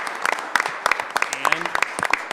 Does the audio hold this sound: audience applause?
yes